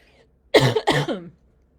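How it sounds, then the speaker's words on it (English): Two quick, harsh coughs in a row, close and loud, with silence before and after. "Sorry, I've been coughing because all the construction with downstairs is kicking up a lot of dust."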